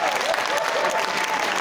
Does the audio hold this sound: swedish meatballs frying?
no